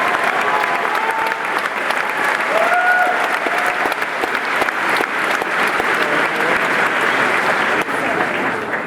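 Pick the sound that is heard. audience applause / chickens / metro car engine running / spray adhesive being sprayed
audience applause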